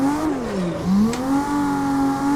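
A car drifting with the handbrake in the racing game Assetto Corsa, its engine revving and whining steadily as the pitch dips and climbs again, loud and continuous with no talking.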